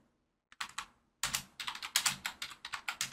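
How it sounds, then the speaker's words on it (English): Keys clatter on a computer keyboard in quick, uneven bursts, a couple of isolated taps followed by a denser run of clicks, close and fairly quiet, with no voices. "So let's type in here."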